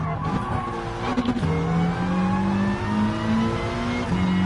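Subaru WRX race car in GT Sport revs hard with its engine climbing and dropping in pitch while tires squeal and skid, a loud, continuous run of engine tone and scrubbing rubber.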